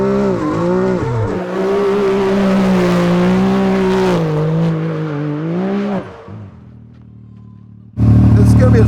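An all-wheel-drive car is thrown around a backyard gymkhana course. The engine revs hard and the tires rip at close range, the pitch rising and falling under speech. It drops out briefly, then roars back loudly.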